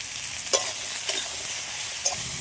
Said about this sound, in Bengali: তেলের মধ্যে কচু আর আলু একটু ভেজে নেব